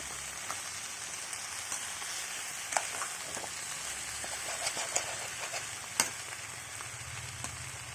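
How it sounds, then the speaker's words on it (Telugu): Jackfruit seeds, onions and drumstick pieces fry over a medium flame in a pan. The sizzle is steady and crackling, with scattered sharper pops and occasional stirring clatter, and no voices. "మీడియం ఫ్లేమ్లోనే బాగా ఫ్రై చేసుకోండి."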